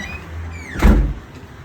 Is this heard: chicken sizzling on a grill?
no